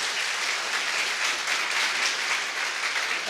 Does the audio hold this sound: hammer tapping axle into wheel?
no